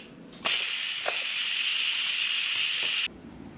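Steam bursting from an Instant Pot's release vent after cooking boiled potatoes: a sudden loud, steady hiss lasting about two and a half seconds, then cutting off sharply, close to the listener.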